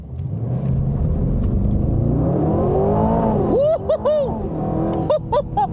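A 2025 Aston Martin Vantage in Sport Plus mode launches hard from a standstill, its engine roaring loudly with a steady rising pitch, then barking through quick upshifts near the end as the revs drop and climb again.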